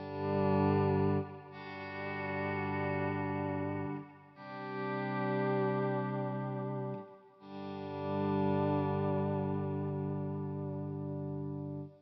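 Guitar swell effects through a J. Rockett Boing reverb pedal fade in as three long, smooth sustained chords, each rising softly and then ringing, with no picking attack and no one talking.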